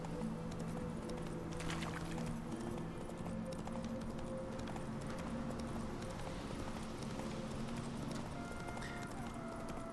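Hooves of Roach, a horse in the video game The Witcher 3, clip-clop in a steady rhythm over a continuous bed of game ambience and music, with a faint whinny.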